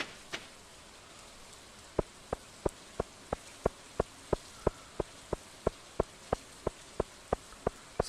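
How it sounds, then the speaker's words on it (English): Rain falling in the farming game Stardew Valley, a soft steady hiss with a run of regular, evenly spaced droplet ticks coming in after a short while, alone without talk. "The bonus of it raining in this game, one, it looks really quite cool"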